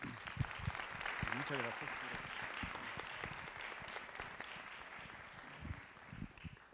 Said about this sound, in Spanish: vamos a recibir a Bernardo con un gran aplauso